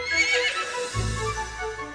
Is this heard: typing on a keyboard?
no